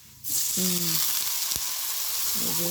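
Oil sizzles loudly and steadily right after water hits a hot pan of frying spices and red chili powder, a continuous bright hiss with brief harmonic tones at the start and end.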